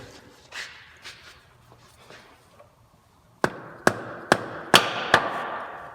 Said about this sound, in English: I'm just going to tap it with a plastic mallet.